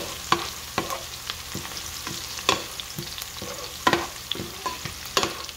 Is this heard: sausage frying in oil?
yes